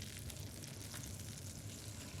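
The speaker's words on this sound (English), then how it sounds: "and you hear that sizzling right away" Pancetta hits shimmering oil in a pan while cooking a campfire pasta, giving a dense, steady close-up sizzle and crackle that holds evenly throughout with no talking.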